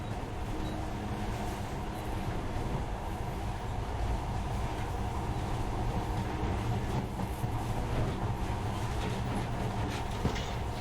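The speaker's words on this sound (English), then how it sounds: "In the past, trains were ordinary things, but now, this monorail seems magic, doesn't it?" Monorail train running in Metro: Last Light, a steady rolling rumble with low mechanical drone and faint rattling, constant and fairly close for the whole stretch.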